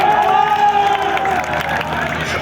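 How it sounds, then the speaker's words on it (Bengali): Large outdoor crowd at a labor rally on a college field in Gazipur, Bangladesh, cheering and applauding to welcome an arriving procession; a steady, loud wash of clapping and shouting fills the whole moment. "আমরা করতালির মাধ্যমে স্বাগত জানাই"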